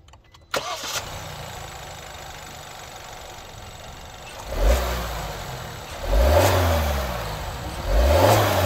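A SsangYong Torres 1.5-litre turbocharged four-cylinder engine starts with a sharp crank, settles into a steady idle, then revs up loudly three times, each rise and fall clearly audible up close.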